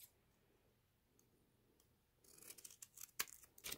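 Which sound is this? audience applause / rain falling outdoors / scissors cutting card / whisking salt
scissors cutting card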